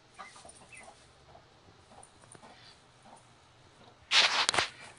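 A mother hen clucking loudly and agitatedly at a goat in a barn, a short burst of harsh squawks near the end after a quiet stretch of faint rustling.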